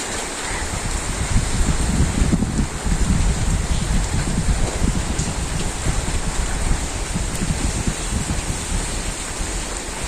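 Steady heavy rain pours down in a rural Bangladeshi village, a loud, dense, unbroken patter that holds the same level throughout with no voices.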